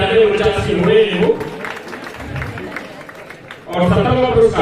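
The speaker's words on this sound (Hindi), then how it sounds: "जोरदार ताली बजा रहे" Audience clapping at a prize ceremony during a farmers' protest gathering, a steady wash of applause from a crowd with a loud voice talking over it, the clapping swelling again near the end.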